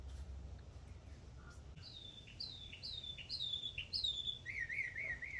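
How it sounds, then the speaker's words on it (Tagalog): Birds sing in a small home garden with onion flowers, a series of bright, repeated whistled chirps and warbling phrases at moderate distance over a soft, steady outdoor background hum. "Oh, you hear the birds singing?"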